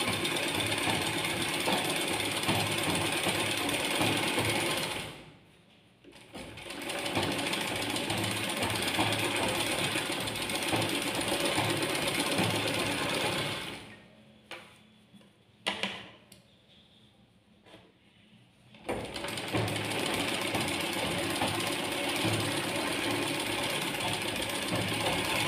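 A sewing machine stitches an aari work blouse with a fast, continuous mechanical whirring and clatter, close and loud, stopping briefly twice for short quiet pauses before running again.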